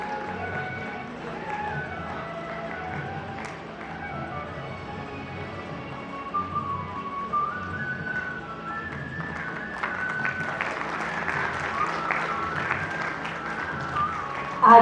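An audience at a Shiv Avatar festival gathering in Ambala Cantt claps to welcome guests, scattered clapping over music and background sound that grows denser and louder toward the end.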